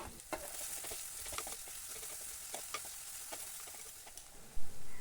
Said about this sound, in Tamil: பெரிய வெங்காயத்தை நான் கட் பண்ணி வச்சுருக்கேன், அதையும் சேர்த்துடலாம். வெங்காயம் நல்லா வதங்கட்டும்